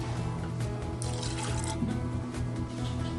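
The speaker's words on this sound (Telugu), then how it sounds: "పప్పుని కుక్కర్లోకి వేసేసి ఒక కప్కి 3 కప్స్ వాటర్ పోసి బాయిల్ చేసుకోవాలి" Water poured into a pressure cooker holding washed lentils, a steady liquid trickle and splash running the whole time at moderate, close volume with no talk.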